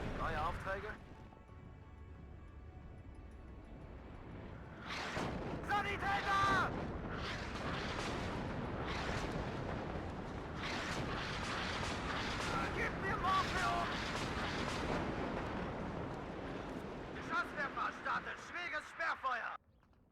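PACT howitzers, mortars and MLRS in the WARNO video game firing an artillery salvo at buildings, a sustained rumbling series of booms and impacts that build in intensity, with someone talking over them.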